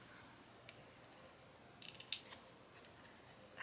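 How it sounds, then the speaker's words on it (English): Scissors snip through paper while a card is being made, with a quick cluster of sharp cuts near the middle and a final snip at the end, close and crisp over a quiet room. "I'm going to trim that out."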